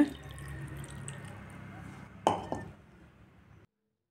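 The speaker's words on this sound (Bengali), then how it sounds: "পরিমাণ মতো জল দিয়ে" Water goes into a pan of small fish with eggplant and carrot for a curry: a low background hum, then a sudden short splash and clink with a few trailing drips before it goes quiet.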